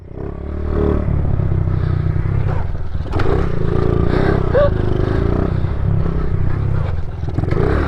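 Small pit bike engine riding at a skatepark, a steady close buzzing drone with clattering and scraping over concrete, sustained throughout.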